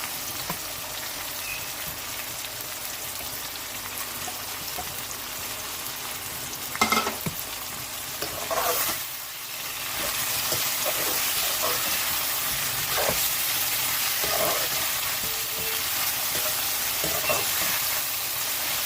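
Chicken drops into softened tomatoes in a karahi for a bitter gourd karela curry, and a steady oily sizzle fills the air, broken by a few scraping stirs and soft clatters, with no talking.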